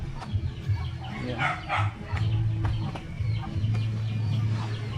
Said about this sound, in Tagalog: Nangingitlog ito ang manok eh.